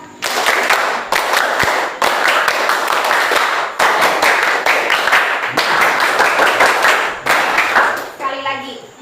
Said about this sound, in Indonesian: Pimpin teman-temannya untuk tepuk semangat.